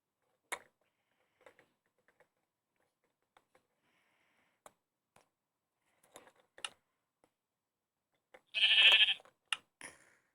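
A sheep in the Minecraft video game, heard while a wool farm is being built, gives one short nasal bleat amid sparse keyboard and mouse clicks in an otherwise quiet clip.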